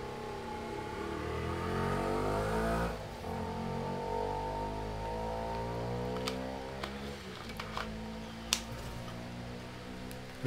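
A Ferrari in a Forza Horizon 3 drag race, its engine revving hard through climbing gears with a brief dip at a shift, then a steady high-pitched drone as speed builds, punctuated by faint ticks and clicks.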